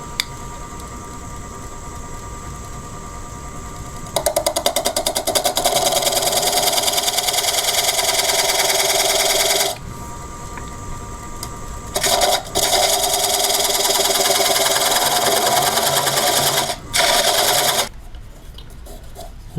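A wood lathe turns a piece held on button jaws at 600 RPM, giving a steady mechanical whir. A tool scraping the wood adds bursts of loud, gritty rasping that start and stop several times.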